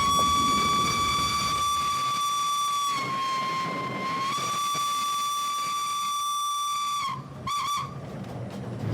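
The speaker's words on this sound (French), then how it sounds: "à chaque coup de sifflet, ça fait toujours un petit frisson" A steam locomotive's whistle blows one long, loud, steady tone close by on a mountain railway line between the Jura and Alsace, dipping briefly midway and breaking into short toots at the end.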